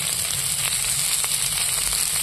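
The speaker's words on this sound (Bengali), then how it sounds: "আবার তেলের মধ্যে আমি নাড়াচাড়া করে নিচ্ছি" Ingredients fry in hot oil with chilli and turmeric as they are stirred, a dense, steady sizzle with faint scraping, close and loud throughout.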